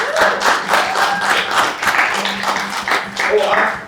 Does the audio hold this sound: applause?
yes